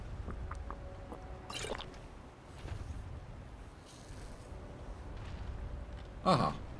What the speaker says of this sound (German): Hier wollen wir doch lieber unseren Wasserschlauch mal auffüllen.